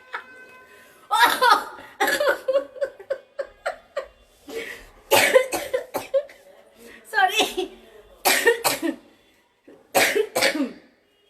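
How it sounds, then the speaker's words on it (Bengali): A close, repeated coughing fit of sharp bursts in irregular clusters, briefly interrupted by a short spoken word. "আমার কাশি উঠে গেছে"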